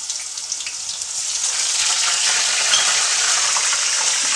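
Ginger garlic paste sizzles steadily in a hot pan with cardamom, cloves, cinnamon and bay leaf for vegetable fried rice, a continuous close frying hiss that grows slightly louder after the first second, with no talking.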